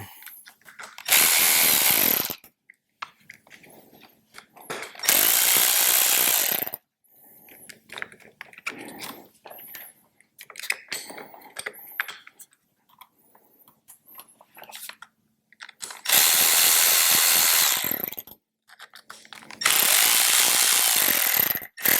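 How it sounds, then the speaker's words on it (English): Power tool tightening bolts on Harley Davidson Electra Glide handlebar controls: four loud bursts of whirring drive, each about two seconds, separated by quieter clicks and small mechanical handling noises. "I'm going to tighten these up most of the way, but not all the way till the end."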